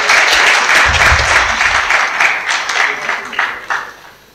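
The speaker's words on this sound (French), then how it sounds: "Permettez-moi donc d'insister encore une fois sur vos applaudissements" Audience applause at a diploma-awarding ceremony for an ANP Academy master class: dense, loud clapping from a crowd that holds steady, then thins and fades toward the end.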